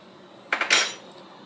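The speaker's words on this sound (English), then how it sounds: "Stir thoroughly for about 15 seconds." A spoon stirs rice in a pot of boiling water, making a quick cluster of three metallic clinks and scrapes against the pot over a quiet background.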